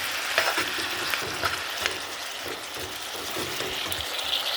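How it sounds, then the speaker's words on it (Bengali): Vegetables sauté with spice paste in a pan for shukto, a continuous close sizzle broken by soft scraping strokes of stirring. "এবার এই মশলার সাথে আর এই সবজিগুলো সব ভালো করে কষে নেবো।"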